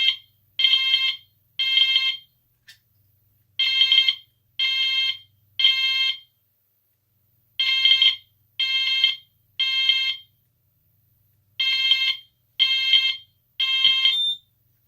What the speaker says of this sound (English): the strobe on the Gent sounder flashed in the temporal pattern in sync with the sounder's output as well